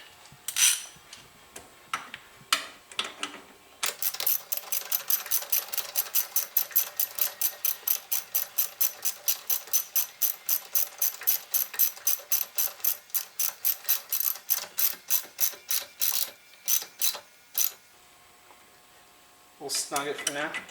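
Ratchet tightening a 17 mm bolt on a 2010 Mazda3 front shock, heard up close as a long run of fast, even clicks, with a few scattered clicks before and after.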